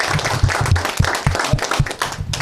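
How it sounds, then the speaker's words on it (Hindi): Applause and clapping from an audience at a celebration in Jaipur, a burst of irregular claps, moderately loud and fairly close, with no voices over it. "तो एक बार जोरदार तालियां पूरे फर्स्ट इंडिया ग्रुप के लिए"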